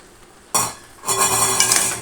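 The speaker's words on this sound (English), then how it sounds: "We're gonna give it a stir a little bit." Spaghetti in tomato sauce, with butter added, is stirred in a pan on the stove, giving a sudden clatter of utensil against pan followed by steady scraping and a soft sizzle, close and without talk.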